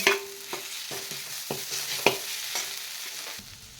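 Tomatoes and drumstick pulp sauté in a pan, with a spoon stirring in repeated scrapes about every half second over a steady close sizzle that fades slightly near the end.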